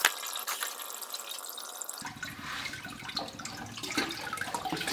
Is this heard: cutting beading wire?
no